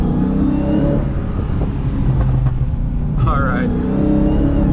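A Hellcat car accelerates hard in a loud, constant engine roar heard from inside, with scattered exhaust pops and crackles and someone speaking over the noise.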